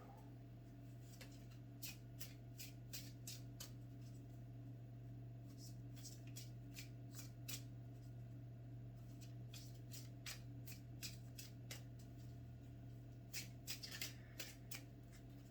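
Oracle cards being shuffled by hand, giving repeated bursts of crisp riffling and flicking against a steady low hum, with a few short pauses between rounds of shuffling.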